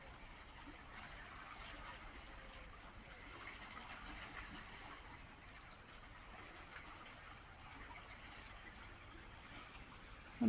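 Fast-flowing River Trent rushing past steadily, a broad, continuous wash of water noise heard from the bank, fairly faint and unchanging throughout with no voices.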